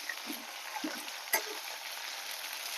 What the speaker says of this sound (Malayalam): നന്നായിട്ടൊന്ന് വറുത്ത് കൊടുക്കാം വറമുളകും കരിവേപ്പിലൊക്കെ ഒന്ന് ഒന്ന് വറന്ന ശേഷം